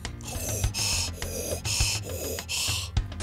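Breathing of a sprite in the video game Lancaster: rhythmic, loud hissing gasps alternating in and out about every half second, with mechanical thumps underneath and no talk.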